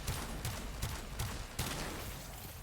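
A Warframe secondary weapon launching missiles in its alternate fire mode, with four or five distinct sharp bursts spaced evenly across a quiet, fairly faint background.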